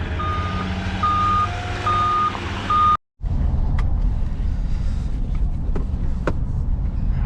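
A truck hauling a trailer loaded with paving material rumbles loudly nearby with a steady engine drone and a repeating reversing beep, followed by a brief cut and continued engine noise with faint clicks.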